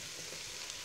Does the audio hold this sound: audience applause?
no